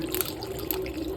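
A short stream of water pouring and splashing while making homemade butter, a steady close-up liquid rush.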